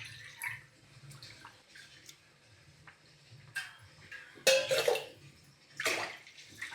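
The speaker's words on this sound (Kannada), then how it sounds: "3 ಲೋಟ ನೀರು ಹಾಕಿದ್ದಾರೆ." Glassfuls of water are poured into a cooking pot for rice flour dough, with a few separate splashing pours and drips standing out against a quiet kitchen.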